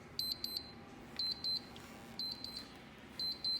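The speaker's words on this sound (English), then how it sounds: "So that's our timer." A kitchen oven timer beeps in quick clusters of three or four high, bright electronic tones, repeating several times with short gaps, fairly faint against a quiet room.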